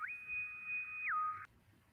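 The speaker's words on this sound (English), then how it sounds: "She sounds the bosun's whistle for me every time I go into Doomcock's chat." A bosun's whistle call played as a chat sound effect: a clear, sustained high pipe holding steady, then sliding down to a lower pitch before cutting off abruptly, followed by quiet.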